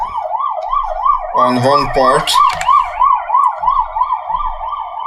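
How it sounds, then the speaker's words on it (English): An ambulance siren passes outside, its wailing tone rising and falling steadily and loudly, with a brief burst of mixed horn-like tones partway through and a person speaking briefly under it. "sorry about the ambulance."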